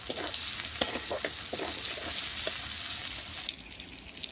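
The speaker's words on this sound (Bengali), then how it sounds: "পেঁয়াজটা ভেজে নেব একটু" Chopped onion frying in a pan on a clay stove, a steady close sizzle with crackles and a few stirring scrapes, and no voices.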